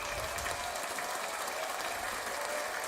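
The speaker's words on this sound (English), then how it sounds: "So let's give ourselves a round of applause real quick." A canned applause sound effect fires during a sports-picks live stream: a dense, steady wash of clapping that runs at an even level for about three seconds with no voices.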